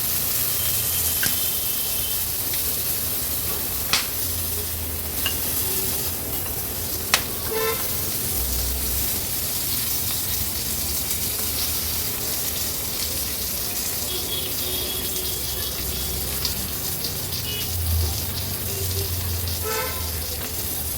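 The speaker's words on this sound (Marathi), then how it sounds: "आता फक्त ना साईडनी ह्याला आपण थोडंसं असं तळून घेणार आहोत" Capsicum fries in a pan with a steady, broad hiss that carries unbroken for the whole stretch, while a few faint knocks and a distant vehicle horn poke through the sizzle.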